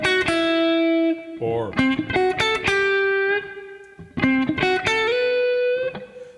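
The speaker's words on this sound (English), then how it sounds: "that's a diminished arpeggio. So you can use the arpeggio and resolve into chord tones." Electric guitar with heavy distortion plays a diminished arpeggio over blues, bright sustained notes in quick runs and held tones, loud and close, with a brief spoken word partway through.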